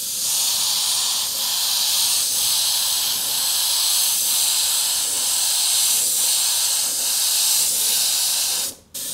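An airbrush sprays paint in a steady, close hiss while colouring in, with faint regular pulses about once a second as the spray is worked on and off, cutting out abruptly near the end.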